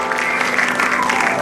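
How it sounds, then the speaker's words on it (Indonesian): A studio audience at the Indonesian comedy talk show Indonesia Lawak Klub breaks into applause, a loud, dense burst of clapping that fills the whole short moment. "Tepuk tangan dulu dong"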